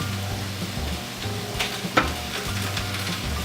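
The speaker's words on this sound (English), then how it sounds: "Hear that sizzle? That means it's good." Steak and chicken fajitas sizzle and fry in a hot pan, a steady close crackle with a few sharper pops and stirring scrapes, no voices.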